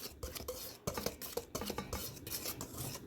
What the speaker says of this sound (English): You're going to want to stir it around for probably like a minute and a half to 2 minutes